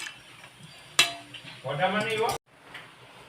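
Drained rice tipped into a pot of milk for traditional doodh pak, a short clatter and pouring rush against the metal pot before a sudden stop, near and fairly loud.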